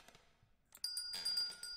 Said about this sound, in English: Oh, I can ring the bell.